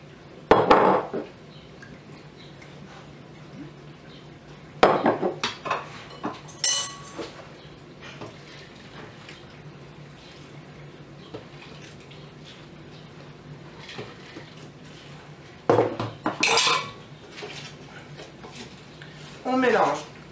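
A spoon stirs and mixes salt and cardamom into a filling for chicken almond pastilla, with bursts of metal and glass clinking against the bowl between quieter stretches, under a speaking voice.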